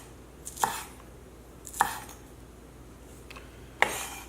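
A knife chops scallions at an angle on a cutting board, making three sharp, separate knocks about a second apart against a quiet kitchen background.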